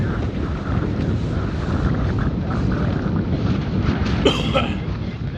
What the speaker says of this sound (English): So boy, the wind has come up, Steve, dramatically.